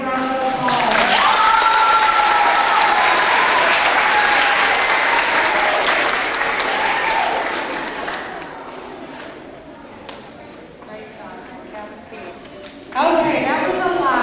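A school awards-ceremony audience of parents and families breaks into loud, sustained applause, dense at first and gradually thinning, with some cheering and talk mixed in.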